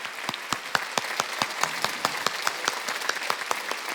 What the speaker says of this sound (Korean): 하나님께 박수 치랍니다.